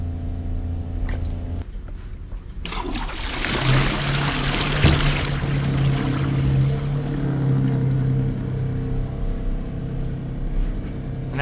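A low-flow toilet flushes a potato with a 0.8 gallon flush: a click and short pause, then a loud rushing gush of water that settles into a steady refill hiss and trickle close by.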